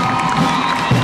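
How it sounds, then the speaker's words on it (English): A large crowd at a Memorial Day parade applauds and cheers loudly, a brief dense wash of clapping and voices. "And there is a lot of applause. People are on their feet behind us."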